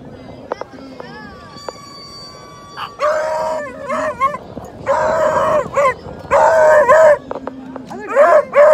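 Dogs at a surf dog event on a beach, barking, yipping and whimpering in repeated close bursts, with a person talking in between.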